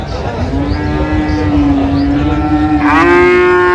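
Friesian and crossbred bull calves at a rural cattle market in Dinajpur moo with one long, loud, close low call that rises at the end, over a busy market background.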